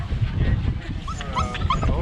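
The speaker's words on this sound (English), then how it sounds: "Oh, look at the dog." A dog yips and whimpers in short, high bursts near a bike path along the Strand in Townsville, heard over wind rumble and riding noise with voices nearby.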